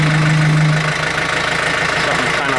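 A tractor loader's engine idles close by, a steady low throbbing rumble with a slight knock running throughout.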